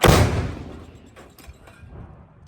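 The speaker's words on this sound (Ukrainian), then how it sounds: "Постріл!" A single loud gunshot booms at the start, then its echo rolls away and fades into quiet.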